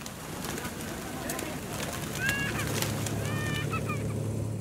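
A flock of white pigeons at the Blue Mosque in Mazar-e-Sharif, Afghanistan, with soft continuous cooing and a few clearer bird calls over a busy outdoor background hum.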